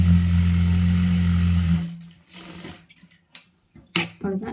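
A sewing machine runs steadily while stitching churidar fabric in a tailoring session, giving a loud, even motor whir for about two seconds before stopping, followed by faint clicks and handling noises.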